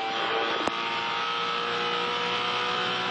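V8 Supercars race cars, Team Vodafone Fords, racing at Bahrain in 2008: a steady, loud engine roar holds throughout with one brief sharp click, with no clear pass-by or voices.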